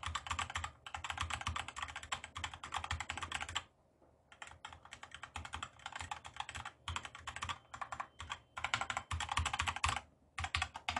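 Rapid clicky keystrokes on a Ziyoulang K68 wireless mechanical keyboard, close and steady, with a brief pause midway before the typing resumes.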